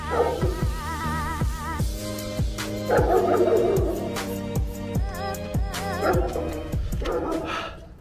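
A dog yips, barks and whimpers in a rapid repeated series on a cold outdoor run, with busy background noise and some harmonic whining throughout.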